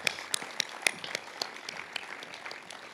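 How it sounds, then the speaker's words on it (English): Applause for platinum sponsors at a chamber of commerce fall dinner, a modest, fairly quiet round of clapping with a few crisp nearby claps, thinning out toward the end. "A big round of applause for our platinum sponsors."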